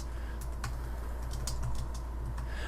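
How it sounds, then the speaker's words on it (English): Soft, irregular clicking of computer keys being typed, quiet and close, with short pauses between bursts. "First, I can just click and begin typing."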